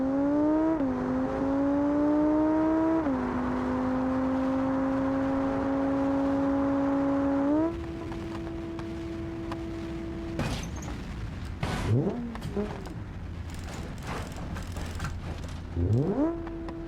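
An Audi Quattro engine in the BeamNG.drive driving game revving loudly, holding high steady tones that step up through the gears, then dropping to idle with a few sharp blips and bumps toward the end.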